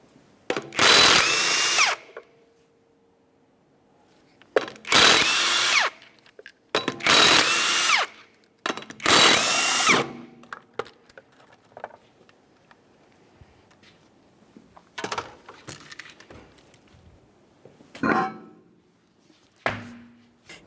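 Impact tool removing the 19mm lug nuts from a 1994-1997 Honda Accord front wheel, heard as several loud, close, short bursts separated by quiet gaps, with fainter clicks and mechanical handling sounds toward the end.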